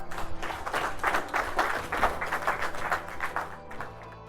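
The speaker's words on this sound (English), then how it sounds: "Let's give God a hand clap" Applause from a men's gathering, a crowd clapping in a rapid, dense burst that stays steady before tapering off.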